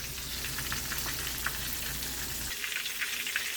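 Brussels sprouts frying with butter in a pan give a faint, steady sizzle of fine crackles and pops, while a low background hum cuts out partway through.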